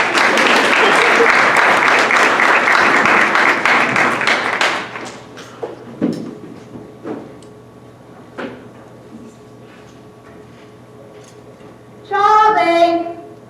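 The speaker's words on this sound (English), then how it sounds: "ladies and gentlemen, please put your hands together." Loud audience applause fills a school auditorium before a stage play begins, dense and sustained for several seconds, then breaks off into scattered thumps and quiet room noise before another short burst of sound.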